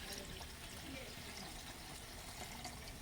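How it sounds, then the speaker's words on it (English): Water pouring into a cooking pot for a traditional Kenyan village breakfast, a soft, steady splashing trickle at low level, with someone talking over it. "so now it's time to add in our water"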